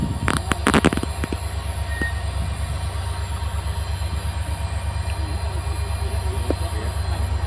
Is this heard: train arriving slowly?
yes